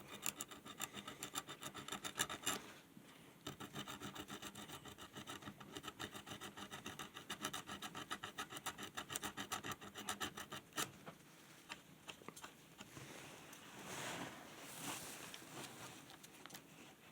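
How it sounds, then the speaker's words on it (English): Coarse 60-grit sandpaper scrubs a small part in quick, rhythmic back-and-forth strokes, close and quiet, pausing briefly before easing into softer rubbing near the end. "These need sanding. Got a bit of 60 grit here."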